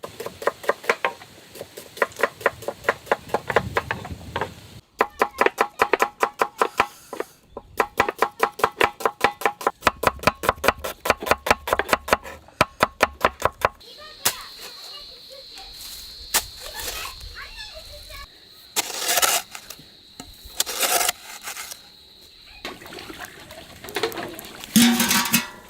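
Rapid knife chops through okra on a cutting board come in quick rhythmic bursts, then slower scattered cuts and scraping follow near the microphone.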